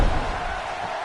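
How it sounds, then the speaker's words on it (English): Arena crowd noise in the wrestling video game WWE 2K16, a continuous dense roar of a large audience that starts with a brief thump and holds steady at moderate loudness. "Listen to this crowd."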